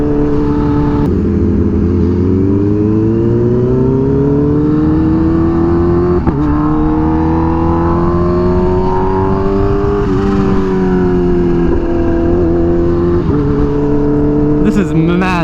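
Many motorcycles rolling into a large bike meet, a continuous loud engine drone with rising and falling revs from several bikes close by, throughout the whole stretch.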